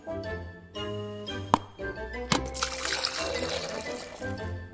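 Drinking water is poured at close range, a trickling, splashing stream with bright tinkling notes and a couple of sharp clinks, set against a sustained musical tone.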